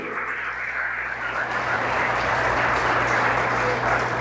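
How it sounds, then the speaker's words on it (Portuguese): A church congregation at an evangelical Portuguese-language sermon applauds steadily, a dense, loud sustained clapping that holds for the whole stretch with a low hum beneath. "Aplauda o Senhor Jesus"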